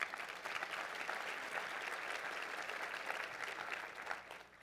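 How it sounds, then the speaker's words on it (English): Conference audience applauds at a welcome address during an annual conference, a steady even wash of clapping from a large room that holds for several seconds, then begins to thin near the end. "Give yourself a hand of applause."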